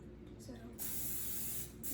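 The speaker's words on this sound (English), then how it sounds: "I always like to spray it." Cooking spray hisses into a silicone loaf mold in a kitchen, two short bursts, the first softer and the second longer and steadier, with the start of a third at the end, close up.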